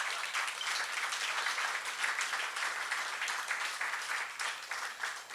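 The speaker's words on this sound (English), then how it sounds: "There'll be more applause as we go along" Applause from the audience at a press club's 80th anniversary award ceremony in a large gallery hall, a steady wash of many hands clapping that sounds distant and fairly soft, continuing without pause.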